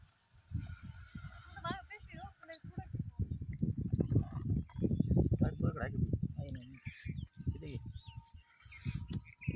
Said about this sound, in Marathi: पक्षी झाले भारी ओरडत